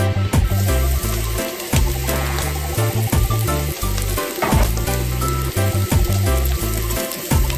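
Onions hit hot olive oil in a frying pan for Jamaican curry goat, giving a loud, steady sizzle with clattering of utensils and pan throughout.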